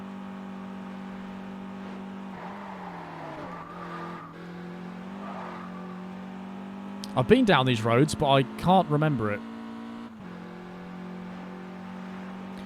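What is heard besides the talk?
car driving in video game Test Drive Unlimited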